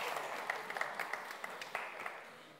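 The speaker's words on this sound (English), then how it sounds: "big round of applause for Chris." An audience at a mixer product presentation claps steadily and moderately at a distance, the applause softening and fading toward the end.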